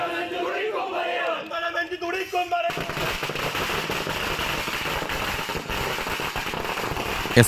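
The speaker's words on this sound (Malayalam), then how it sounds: "കുഞ്ഞികൃഷ്ണൻ വീട്ടിൽ ഇല്ലാതിരുന്ന സമയത്താണ് CPM പ്രവർത്തകർ പടക്കം പൊട്ടിക്കുകയും മുദ്രാവാക്യം വിളിക്കുകയും ചെയ്തത്." A voice talks briefly, then a dense, continuous crackle of firecrackers set off by CPM party workers outside a house bursts in rapid succession, loud and sustained until the end.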